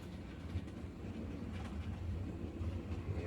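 A model railway prairie tank locomotive arrives hauling empty freight wagons, mineral and coal wagons, heard as a low, continuous rumble with faint rolling clatter, close by and without talk.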